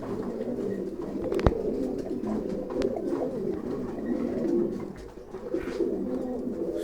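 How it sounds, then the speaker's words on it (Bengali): Several pigeons coo in low, rolling calls close by, overlapping in a steady murmur with occasional sharper clicks and flutters, and no one speaking. "চলেন এক এক করে কবুতর দেখাই"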